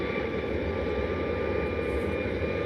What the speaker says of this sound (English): eso es un Ryanair 737 MAX 8 que va a Copenhague